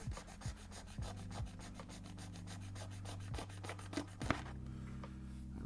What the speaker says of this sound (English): I'm just going to take my razor saw real quick. And just go straight down.